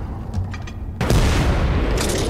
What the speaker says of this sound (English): this is a cannon?